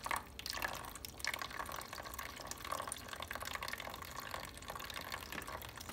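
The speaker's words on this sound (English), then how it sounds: "add a little bit of water to the first track because it evaporates in the incubator" Water trickles and drips steadily as it is poured into the water track of an egg incubator, a continuous faint splashing flow lasting several seconds.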